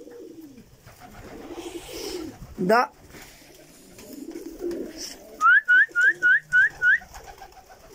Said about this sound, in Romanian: ăștia sunt porumbeii lui